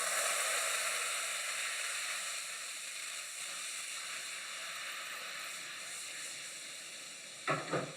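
Bright, crackling sizzle of guanciale frying in a hot pan, steady and close, fading slightly before a short clatter at the end.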